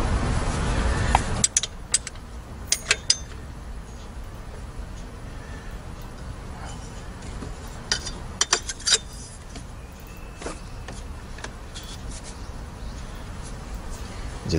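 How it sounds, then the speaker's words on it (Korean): Metallic clicks and light clinks come from a socket wrench or spanner tightening a 10mm bolt on a car's power steering pump hose during a drive belt replacement. The sparse, irregular ratcheting ticks sit over a low background hum. "10mm 복스나 스패너를 이용해서 볼트를 체결해 줍니다."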